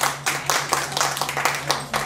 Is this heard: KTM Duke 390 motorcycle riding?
no